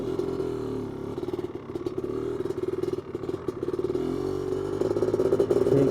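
A 1985 Honda 250R engine runs in first gear, a steady close mid-pitched drone with rapid pulsing and some clatter that rises slightly near the end as it is taken up gently.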